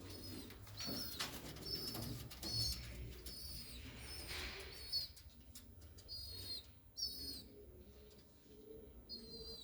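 Pigeons, a female and male pair, coo faintly in soft repeated calls, with occasional light chirps and wing rustles in a quiet setting, no talk.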